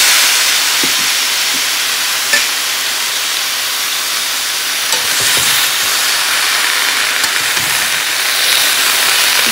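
Leafy greens are added to a hot pan of fried vegetables including pumpkin, giving a loud, steady sizzle and hiss with a few brief stirring clicks, no voices.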